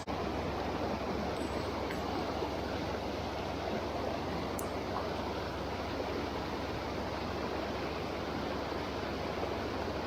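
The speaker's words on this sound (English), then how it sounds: "Some logs hung up there in the middle of the waterfall." River rapids and a waterfall roar in a dense, continuous broadband rush, steady and fairly loud from start to finish, with no voices.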